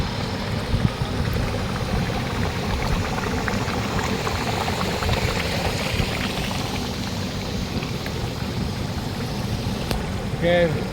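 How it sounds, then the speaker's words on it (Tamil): Water in a volcanic hot spring at Tangkuban Parahu, Indonesia, boils and bubbles vigorously in a continuous churning roar, heard close and steady throughout. "அதான் 100 டிகிரி கொதிக்குது."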